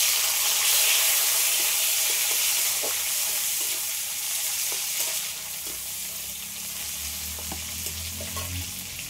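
Chopped tomatoes fry in a pan with a loud, bright sizzle that hisses steadily, a few soft clinks of stirring, and the sizzle easing slightly partway through.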